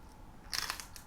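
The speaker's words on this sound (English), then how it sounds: "you're gonna have to listen to me crunch through this toast" Toast spread with peanut butter gets bitten and chewed up close, with a brief burst of crisp crunches after a quiet start and a fainter crunch at the end.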